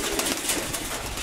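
Young pigeons in a loft coo softly and continuously, close to the microphone, over a steady rustling background with no talking.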